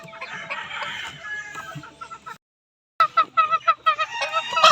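Young roosters and chickens on a poultry farm crow and cluck loudly and close by, with overlapping calls, a brief silent pause midway, then a string of sharp rhythmic clucks and crows.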